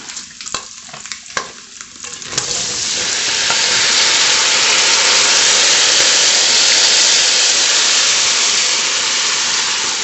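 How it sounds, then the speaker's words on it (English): Cabbage goes into a pan of hot bacon fat with bacon and ham: a few light clatters come first, then a loud, sustained sizzle that swells up and holds steady close by. "I'm going to start adding the cabbage in."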